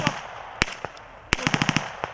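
Military gunfire from the Royal Gurkha Regiment in the Saber Strike exercise's final battle: a few scattered sharp shots, then a rapid burst of several cracks, close and loud.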